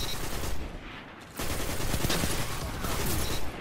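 Heavy gunfire in Destiny 2 during an Exodus Blue match, dense blasts that pause briefly near the middle and then resume, loud and close.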